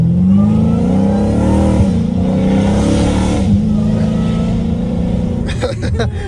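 A Dodge Challenger Hellcat Redeye's engine drones loudly, its pitch stepping down as the automatic transmission shifts to lower gears, with people talking inside the car over the steady rumble.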